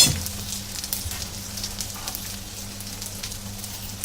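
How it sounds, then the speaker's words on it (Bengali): Spice paste (masala) for a pangas fish curry fries in a pan with a steady, close crackling sizzle that continues evenly throughout, with no voices. "তো মশলাটা ভালোভাবে কষানো হয়ে গেছে"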